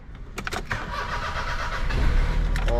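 A 2002 Perodua Kelisa 1.0 GX manual hatchback cranks and catches, its starter whirring briefly before the small engine settles into a steady, close idle, with no talking.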